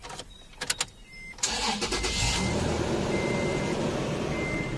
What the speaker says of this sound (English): So let's go start the truck. Alright, let's go start her up.